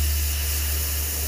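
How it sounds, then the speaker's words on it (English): Gas fizzing out of a submersible's ballast tanks during a deep-sea descent off Bermuda, heard as a steady, loud broadband hiss over a constant low hum from the vessel, with no break across the clip. "The fizzing noise you're hearing is gas being released from the ballast tanks so that the submersible is heavier than water"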